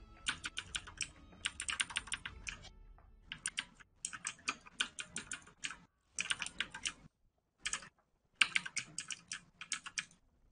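Fast typing on a computer keyboard during an online game, bursts of clicking keystrokes separated by short pauses, close and crisp with no talk.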